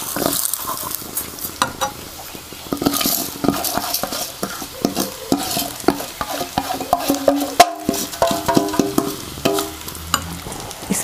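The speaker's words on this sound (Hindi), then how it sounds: "अब हम इस सारे मिक्सचर को इकट्ठा ही पैन में डाल देंगे" A sesame, jaggery and ghee mixture scraped and stirred in a pan over low heat, with irregular close clinks and scrapes over a soft sizzle and no talking.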